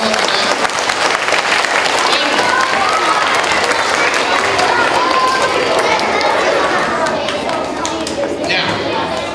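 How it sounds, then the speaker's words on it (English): A room of schoolchildren applauds at a school presentation, a dense, loud patter of clapping that runs steadily throughout and mixes with excited chatter and voices. "Now give yourselves a round of applause."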